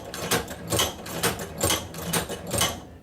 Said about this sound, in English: Then we'll go ahead and continue sewing.